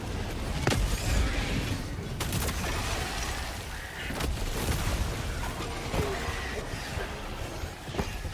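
Grenade blast in a video game battle, heard as several sharp booms and cracks over a dense rumble of gunfire and explosions, loud and close throughout.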